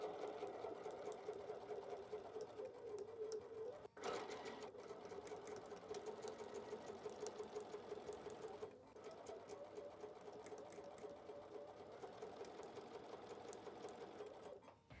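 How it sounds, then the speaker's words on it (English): A sewing machine stitching quarter-inch seams on quilt block pieces runs in a steady, fast mechanical whir for the whole stretch, pausing briefly twice before resuming at the same even pace. "Let's go sew our quarter inch seams and we'll start assembling that quilt block."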